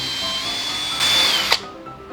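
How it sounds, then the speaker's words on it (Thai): Power drill boring a hole in pine wood for a cupboard: a close, steady motor whine rises into a louder grinding burst as the bit bites, then winds down, with no talk. "แล้วก็เจาะรู"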